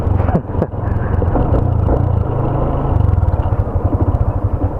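Motorcycle engine rumbles up close while boarding a ship on a solo ride from Manila to Mindanao, with a steady low throb and clattering over loud, continuous motor noise.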